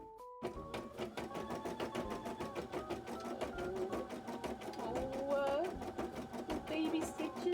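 A sewing machine runs steadily through small, closely spaced stitches on cosplay fabric, its rapid even clatter filling the space, with bits of background music or tones and a person's voice occasionally present.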